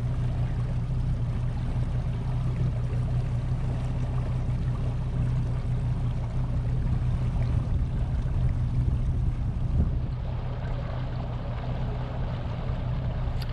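Outboard motor on a fishing boat running steadily while circling slowly on the water during calibration of a Garmin SteadyCast heading sensor, a constant low drone with water wash, no talk.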